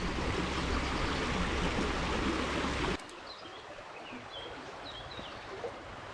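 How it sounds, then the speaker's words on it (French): A small stream with a trout pool babbles in a steady, close broadband rush. The sound cuts abruptly to a quieter, more distant trickle with faint birdsong. "c'est un petit ruisseau et c'est le seul gros trou d'eau qu'il y a dans le ruisseau"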